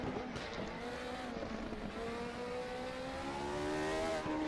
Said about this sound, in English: So you hear the V8 of Jeff's car